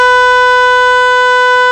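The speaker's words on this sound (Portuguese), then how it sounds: "Este é o som da buzina com o carro parado." The horn of a stationary parked car sounds one steady, unbroken blast at a constant pitch, loud and close.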